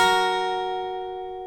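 Second pass of an acoustic guitar lead riff from a song, a single bright plucked chord-like tone ringing out and slowly decaying, heard alone and close.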